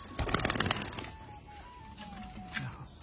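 A pigeon coos softly near a village house, a faint low call at the start followed by quiet rustling and a brief flutter, with a thin steady whine running underneath.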